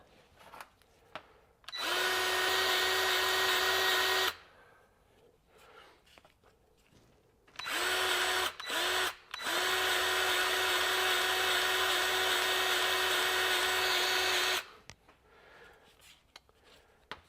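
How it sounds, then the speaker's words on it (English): A Milwaukee 2646 M18 cordless grease gun motor whirs loudly in two bursts, a steady tonal drone of about two and a half seconds, then a longer run of about seven seconds broken by brief stops, with quiet gaps between. "now I'm dispensing grease"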